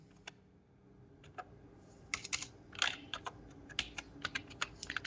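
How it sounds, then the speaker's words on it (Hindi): A formula entered in an Excel spreadsheet on a computer keyboard, a quiet start of a few scattered keystrokes building into a brisk, uneven run of close, crisp clicks in a silent room. "जैसे हम यहाँ पे टाइप करते हैं समिप्स।"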